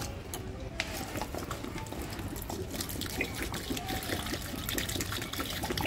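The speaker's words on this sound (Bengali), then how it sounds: "তাই ভাবলাম একটু জল দিয়ে নিই" Water being poured onto potted plants that have grown over several years, a steady close trickling and splashing that runs throughout with small irregular spatters.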